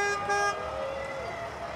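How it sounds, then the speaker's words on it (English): Parade trucks rolling past, with a sustained horn toot sounding over steady traffic rumble, fairly loud at first and then tapering off. "Here comes some more trucks."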